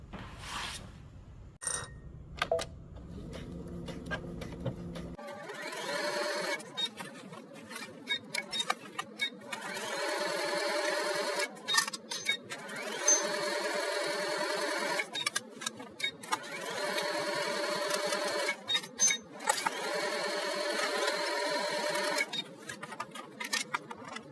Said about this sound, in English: we're going to stitch all the way around the bottom hem and up the back seam